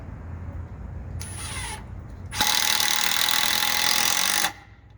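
A regular Milwaukee impact driver drives 2.5-inch screws, giving a brief burst followed by a louder, sustained hammering rattle lasting about two seconds before stopping, over a low background hum.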